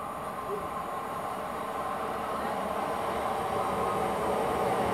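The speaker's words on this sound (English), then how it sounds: "Coming in now is the 11:20 Great Western Railway service to Weymouth from" A Great Western Railway passenger train, the Gloucester to Weymouth service, pulls into Bristol Parkway station with a steady mechanical rumble and hiss that grows slightly louder over five seconds.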